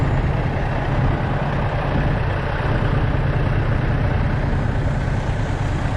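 An old Kenworth truck idles at a truck show, a steady low diesel rumble that holds even and moderately close throughout, with no voices over it.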